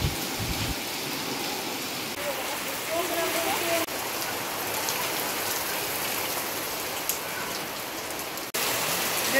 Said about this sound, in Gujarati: આજ તો બહુ વરસાદ આવ્યો.